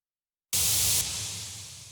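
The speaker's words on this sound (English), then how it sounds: "use only the noise oscillator" Plain white noise from a synthesizer's noise oscillator in Cakewalk starts abruptly after a half-second of silence, a steady loud hiss that softens slightly partway through and continues alone with no talking.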